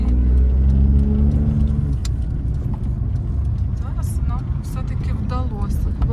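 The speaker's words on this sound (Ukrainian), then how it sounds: "тому що там їдуть машини" Cars pass steadily through a signalized intersection, a continuous near roar of road traffic and engine noise heard from inside a vehicle waiting to turn left, with a voice talking over it.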